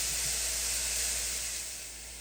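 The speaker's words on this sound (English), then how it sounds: "We will go ahead and saute this for about 4 or 5 minutes." Fennel sautéing in a clay pot, a steady close hiss and gentle sizzle that holds evenly and then eases slightly toward the end, with no talking.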